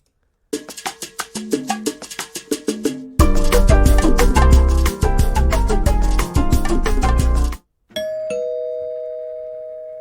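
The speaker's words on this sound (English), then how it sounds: "So this is the bossa nova doorbell." A bossa nova style electronic doorbell plays its melodic chime, a series of bright plucked notes that swell into a full rhythmic tune, then a short held tone after a brief pause, loud and close with no talk.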